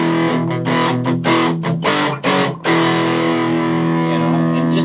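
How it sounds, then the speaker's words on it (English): An Electro Harmonix Pocket Metal Muff pedal with its distortion dial at zero gives a sustained, fairly clean electric guitar tone, a few strummed chords ringing out and then held to decay. "you can even wind this thing right down to like 0 on the dial for distortion."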